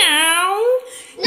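A cartoon voice sings a drawn-out, falling meow imitating a cat in a Spanish children's song, loud and close, then trails off into a brief pause.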